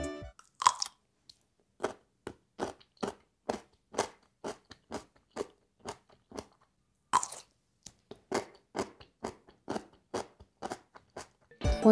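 Homemade food sweetened with brown sugar being chewed up close, about twenty crisp crunching bites in a steady rhythm over quiet silence, with no talk.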